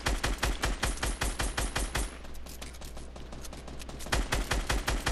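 Rapid automatic gunfire in the Fortnite video game, sharp bursts of evenly spaced shots, a brief pause, then another quick burst, close and loud with no talk over it.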